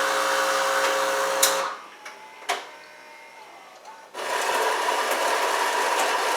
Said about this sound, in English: it's grinding the beans and everything in here, because remember this has its own grinder made in the machine. That's what you're hearing.